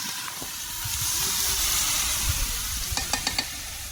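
Rice being added to a hot pan in a home kitchen, a loud continuous sizzling hiss swelling as it hits the oil, followed by a few sharp clicks of a utensil.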